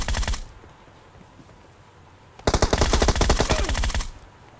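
Rapid automatic gunfire from a PUBG Mobile match, a short loud burst at the start, then a quiet gap, then a longer sustained volley of close, sharp shots with no talk.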